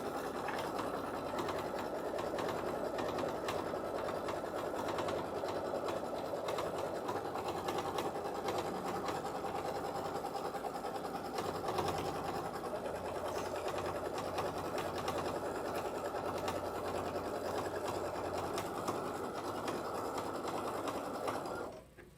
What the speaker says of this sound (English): So I'm gonna go ahead and run that placement stitch.